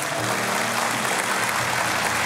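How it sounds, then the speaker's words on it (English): A church congregation claps together as an offering during a sermon, a dense, steady wash of many hands clapping filling the room for a couple of seconds, with a faint tonal hum beneath. "Can we give the Lord a clap offering today?"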